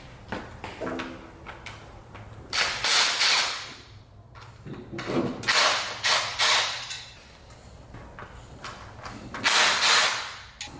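A ratchet works a 10mm bolt out of a coil pack on a Jeep engine, giving repeated bursts of close metallic clicking and scraping with short pauses between them.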